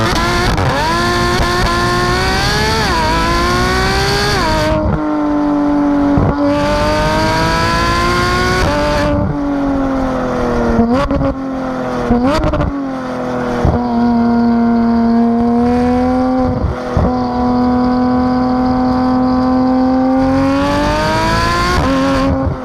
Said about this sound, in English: 911 turbos pretty much sound like powerful vacuum cleaners.